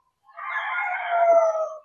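One loud, close rooster crow rings out at a farm lot chicken coop in Norzagaray, Bulacan, a single drawn-out call of almost two seconds against near silence.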